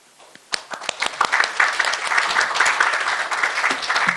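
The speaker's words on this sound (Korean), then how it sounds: "이소영 변호사님 올라오실 때 모두 큰 박수로 환영해 주시기 바랍니다." An audience at a corporate ESG legal conference applauds to welcome an attorney to the stage: a few scattered claps build within a second into steady, full applause that continues to the end.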